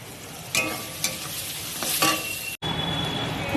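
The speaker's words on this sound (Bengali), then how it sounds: "মশলাটা দিয়ে একদম তেল ছেড়ে গেছে, দেখতেই পাচ্ছ মশলাটা কষানো গেছে" Masala paste frying in oil in a pan, ahead of adding boiled cabbage and peas: a steady close sizzle with a few stirring scrapes, cut by a brief silent gap before the frying resumes.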